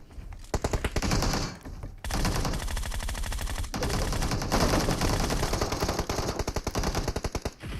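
Rapid automatic gunfire from PUBG Mobile rattles in long, loud, dense bursts, broken by short pauses, with no voices over it.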